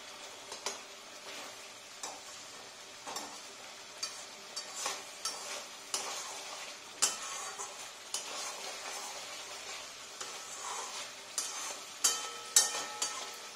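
Fish frying in hot oil, a steady close sizzle broken by regular stirring clinks and taps from a spatula against the pan.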